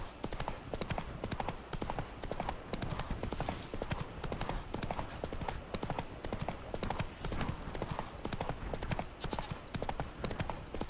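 Horse hooves clip-clop in a steady, continuous gallop rhythm while riding in The Witcher 3, loud and close throughout with faint background game sounds.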